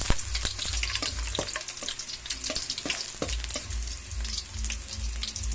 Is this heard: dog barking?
no